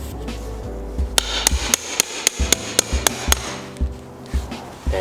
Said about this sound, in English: set it between something with a gap and then tap this out the rest of the way